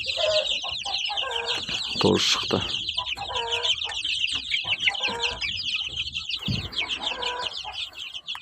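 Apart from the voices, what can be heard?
domestic chickens clucking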